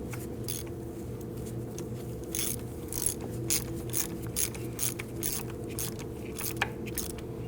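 A ratchet gently snugging a coolant temperature sensor into a 2001-2009 Volvo S60 2.5L five-cylinder, producing steady rapid clicking, close and clear over a low background hum.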